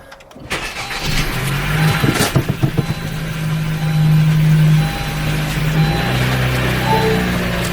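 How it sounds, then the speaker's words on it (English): A 10th-generation Honda Civic Si engine idles high after a flex fuel kit install, a steady loud drone holding throughout after a brief start, close to the microphone with no talking. "It's idling hella high."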